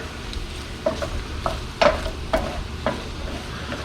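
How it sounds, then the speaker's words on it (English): Flour is stirred into a southern biscuit gravy base in a pan until everything is coated, giving several soft, irregular scrapes and clacks over a faint sizzle, with no talking. "You just want to mix that in until everything is coated nicely"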